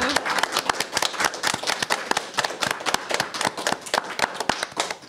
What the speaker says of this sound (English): Do we have to do a final clap?